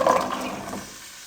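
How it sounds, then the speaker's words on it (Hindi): Potato pieces hit hot cooking oil in a kadhai with a brief burst of hissing sizzle that quickly fades to a softer bubbling. The sound is close and short, with no talking. "अब इसमें हम आलू फ्राई करेंगे"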